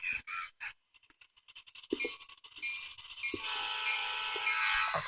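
A model train starts forward after a few short clicks and chuffs, then settles into a continuous whirring rumble with sound-effect tones layered over it, fairly close and moderately loud.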